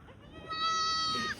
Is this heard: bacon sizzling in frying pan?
no